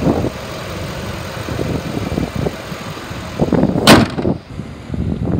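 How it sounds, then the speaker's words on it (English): A 2005 Ford F-150 XL pickup engine idling, a steady low rumble with some rougher pulses and a brief sharp burst near the end, close and fairly loud with no talking. "and again it idles smooth."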